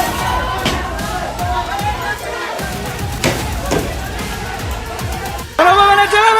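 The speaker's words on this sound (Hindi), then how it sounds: "उधर शेख हसीना के सरकारी आवास पर भीड़ धावा बोल रही थी" A large crowd of protesters storms the prime minister's residence in Dhaka: loud, continuous shouting and cheering fill the scene, with a louder burst of voices near the end.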